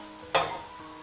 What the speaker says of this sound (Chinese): 用同样的方法把五花肉全部给它煎至两面金黄酥香